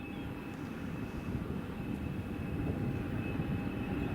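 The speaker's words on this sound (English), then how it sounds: "There's the TUI 737-800 in that lovely retro livery." A TUI Boeing 737-800 on approach to runway 05 at Madeira Airport, a steady broad jet roar with a faint whine, held at even loudness throughout with no talking.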